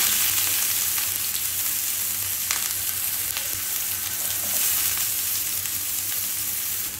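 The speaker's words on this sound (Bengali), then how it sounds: "এখন আমি রসুন ও পেঁয়াজ কুচিটা ভেজে নিচ্ছি।" Steady, close sizzling of chopped garlic and onion frying in a pan, a constant bright crackle with a few faint clicks of a utensil, no voices.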